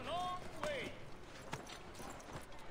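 A horse's hooves clip-clopping in the video game Assassin's Creed 3, a few soft, spaced hoof knocks heard faintly beneath game music and tonal sound effects.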